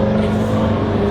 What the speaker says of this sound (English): Thank you, car, for making so much noise.